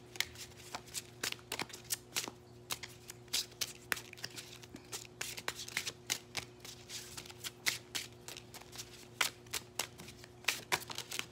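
Love oracle cards are shuffled by hand in a quiet room, giving a steady run of soft, riffling card flicks and slaps close to the microphone, over a faint low hum and with no speech.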